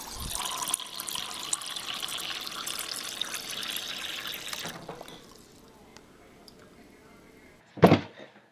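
Water runs steadily from a tap for several seconds and then stops, followed by quiet room sound and a brief knock near the end.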